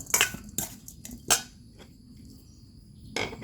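A spoon scrapes and clinks against a bowl while red ant egg salad is stirred, giving several sharp metallic taps and scrapes spaced irregularly, close and fairly loud, with quieter moments between.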